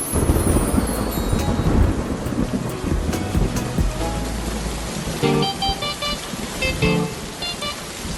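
Heavy rain falls with rolling thunder, a dense steady hiss under deep rumbles that swell early and fade, loud and enveloping with no talking.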